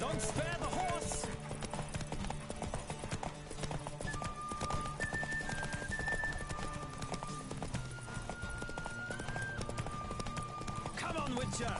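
Hooves pound in a fast gallop through a horse race in The Witcher 3: Wild Hunt, a steady, close beat over game music with a horse's whinny and voices mixed in.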